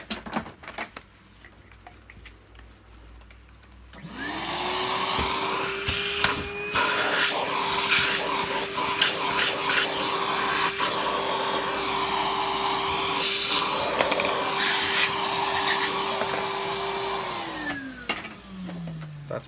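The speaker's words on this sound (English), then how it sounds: "do you want me to hoover out the upholstery?" A Miele vacuum cleaner hoovers car upholstery. Its motor starts abruptly and runs loud and close with a steady whine, the nozzle scrapes and rattles over the fabric, and the motor winds down near the end.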